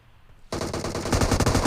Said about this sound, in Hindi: सामने से भी कतई गोलियां चलती हैं